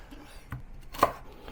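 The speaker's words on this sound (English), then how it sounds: "Tomato you can cut any way you like." Tomato being cut with a knife on a board for Hong Kong borscht: a few sharp, close chops, the strongest landing just after one second, with quiet pauses between.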